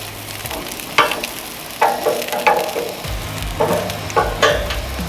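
Lamb chops, sous vide first, sear on a very hot grill, giving a continuous close sizzle with brief louder crackles and pops scattered throughout, and no talk.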